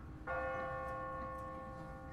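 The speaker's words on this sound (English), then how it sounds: "What kind of church bell goes off at 20 past the hour?" A single church bell strikes once from a bell tower, a sudden clear metallic tone that rings on with a long, sustained decay, alone and fairly loud.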